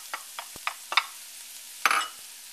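Onion tossed into browning meat in a pan, a few quiet scrapes and light taps over a faint background, then a short burst of frying sizzle near the end.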